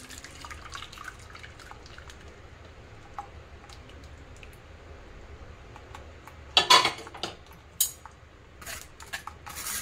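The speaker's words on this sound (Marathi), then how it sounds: "आता आपल्याला जाडबुडाच्या कढईमध्ये हे ओतून घ्यायचं आहे, बॅटर गाळून घ्यायचं आहे असं बघा।" Gram flour batter strained into a heavy-bottomed pan: quiet liquid drips and trickles under soft background noise, then sharp metallic clinks and scrapes of a strainer and utensils against the pan near the end.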